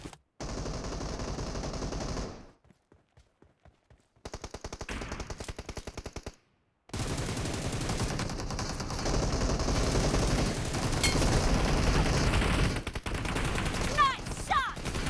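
Rapid automatic gunfire bursts in a PUBG Mobile team deathmatch, loud and sustained with short gaps of near silence between volleys, and a brief game voice cue near the end.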